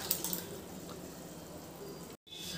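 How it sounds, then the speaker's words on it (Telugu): Water is poured into tamarind (chintakaya) dal as it cooks, a faint, quiet trickling and splashing that runs steadily before a brief break, with no speech. "వాటర్ వేసుకుంటున్నాను"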